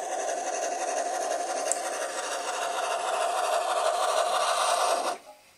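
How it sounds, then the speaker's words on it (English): A Clear Lake Lumber Company Climax geared steam logging locomotive working nearby with a fast, continuous chuffing rasp over a steady tonal hum, holding loud and even before cutting off abruptly near the end. "here comes our Climax."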